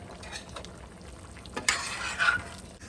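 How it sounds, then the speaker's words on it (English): Simmering chicken stew with potatoes stirred in a pot: a soft bubbling hiss, then a brief burst of utensil scraping and sizzle near the end. "so it has come to a simmer. I'm gonna give it one more stir"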